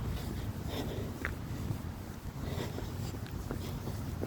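Wind blows beside the Garonne river, a steady broadband rush with gusty buffeting across the microphone, continuous and fairly loud with no talking.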